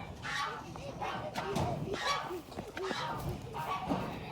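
Farm game birds, geese and chickens, call out in a yard with bare ground, giving repeated honks and clucks at a moderate distance, with other background sound mixed in.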